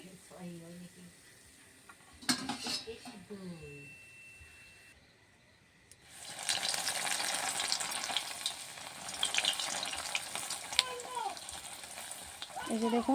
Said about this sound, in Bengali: এক এক করে সবগুলো আমি ভেজে নিচ্ছি